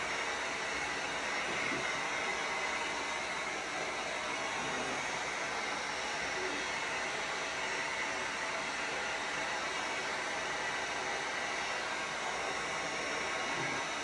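A hair dryer blowing on paint, a steady loud broadband whoosh that runs unbroken and close throughout, with no speech.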